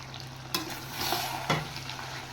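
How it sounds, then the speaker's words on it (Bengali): Chicken pieces are stir-fried in a pan, a steady close sizzle with a couple of scraping stirs from a spatula. "দাঁড়া মাংসটা কষিয়ে নি"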